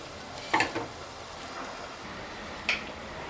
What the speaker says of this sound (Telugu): ధనియాలు ఈ కలర్ ఈ కలర్ వచ్చేంత వరకు మనం వేయించుకోవాలండి